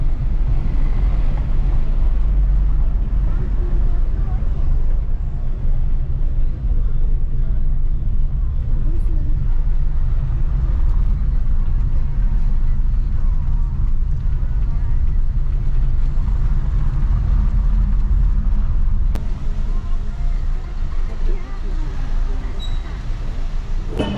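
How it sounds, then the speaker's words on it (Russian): Steady low rumble of a taxi driving through Istanbul traffic, a continuous engine and road drone from inside the car, heard under ongoing conversation. "Все-таки мы едем на такси."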